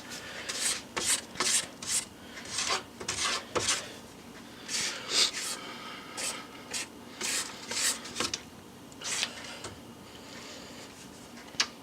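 A spatula scrapes down spirulina orange cupcake batter in a mixing bowl, giving a series of short, irregular rubbing swipes close to the microphone, each a quick rasping stroke with pauses between.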